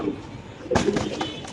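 Pigeons kept for sale coo softly close by at a market stall, a low burbling call swelling midway, with brief rustling and faint voices nearby.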